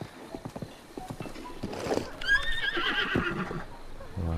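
A horse in Zelda Breath of the Wild whinnies loudly and shrilly close by, preceded by light clip-clopping hooves on the ground, with no talk.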